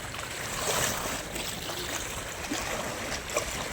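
A steamer passes along the monsoon-swollen Ganges near the Ariadaha ghat, making a steady wash of engine and water noise that holds level throughout, with no voices.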